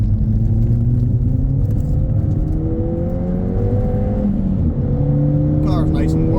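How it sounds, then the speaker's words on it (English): A car engine accelerating along a road, droning steadily with rising harmonic whine through successive gear pulls, a close continuous rumble with a brief shift near the end. "The car's nice and warm now, so we can open her up a wee bit, give her a bit of beans"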